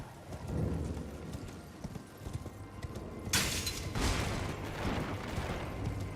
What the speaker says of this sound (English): Just riding a horse casually through her tower like a freaking madman.